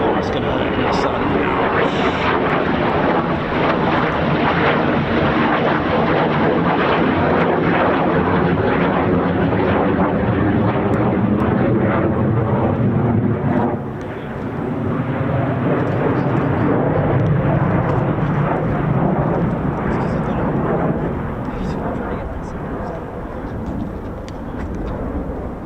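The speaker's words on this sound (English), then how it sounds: "Our last F-35s of the day." USAF F-35 fighter jets at RAF Lakenheath give a sustained loud roar that swells and shifts as they pass, continuing throughout with someone talking over it.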